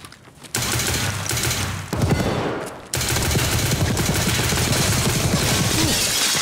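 Sustained automatic gunfire in the shooter game Escape From Tarkov, dense rapid bursts running nearly continuously and loud, with a brief pause and shift in intensity midway.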